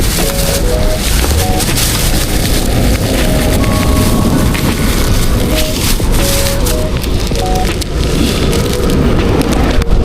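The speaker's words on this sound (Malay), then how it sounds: "So sekarang dah hujan guys." Heavy rain falls loud and close during a food-delivery stop, a dense, unbroken hiss of drops striking hard surfaces throughout, with faint intermittent tones surfacing over the downpour.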